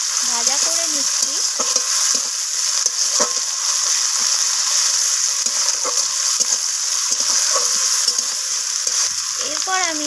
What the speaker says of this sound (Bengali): তো পেঁয়াজ আর টমেটো দুটোকেই আমি ভাজা করে নিচ্ছি।